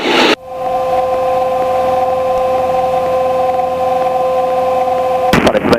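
A light aircraft on its takeoff roll from Barton, with a loud, steady engine drone and rattling and bouncing throughout, bursts of rumble at the start and end.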